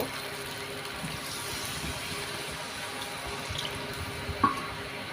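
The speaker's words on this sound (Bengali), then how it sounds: "এখন আমি পরিমাণ মতন পানি দিয়ে দিব" Water poured into a pan of spiced beef curry for beef balls, a steady rushing splash that holds evenly throughout at moderate volume.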